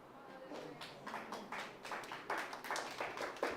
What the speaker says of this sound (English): Now you clapped your hand now.